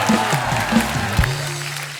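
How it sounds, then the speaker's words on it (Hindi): Audience applause on a TV talk show stage as dance choreographer and other stars are welcomed, a short burst of clapping mixed with sustained musical tones. "जोरदार तालियां हो जाए इन सब स्टार्स के लिए"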